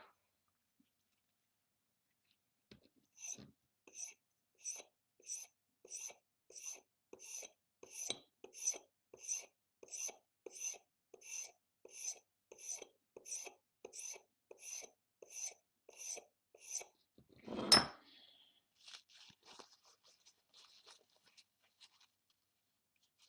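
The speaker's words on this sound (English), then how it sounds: "I need to sharpen my tool." A hand engraving tool is sharpened with a steady series of about twenty evenly spaced short scraping strokes, close and quiet, followed by a louder scrape and a few softer rubs.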